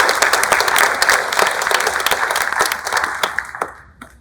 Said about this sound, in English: give me a big New Albany round and Union County round of applause to our Secretary of State, Michael Watson.